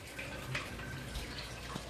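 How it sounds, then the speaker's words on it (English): Water trickles steadily as the side columns of an aquarium sump fill during a water change, a soft continuous splashing flow with a few faint drips, close by and without talk. "when you hear water trickling right there, like that, that means that these side columns are filling with water."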